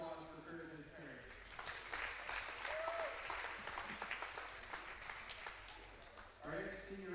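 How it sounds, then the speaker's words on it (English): A crowd claps steadily for several seconds at a high school wrestling dual, the applause swelling and then tapering off as an announcer's voice returns over it. "A big round of applause for Kurt and his parents."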